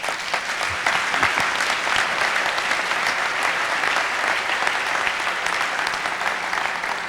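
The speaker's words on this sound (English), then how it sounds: "So I think all of you deserve another round of applause." An audience at an Apple Computers awards ceremony in 1993 applauds steadily, a full sustained round of clapping that swells early and holds evenly to the end.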